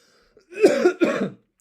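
A pair of close, hoarse coughs in quick succession from a person during a live Japanese study session, each burst short and fairly loud, with silence before and after.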